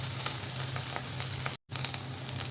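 Spinach frying in a pan as cooked dal is added for a cheera dal thoran, a continuous close hiss and sizzle with a momentary dropout in the middle.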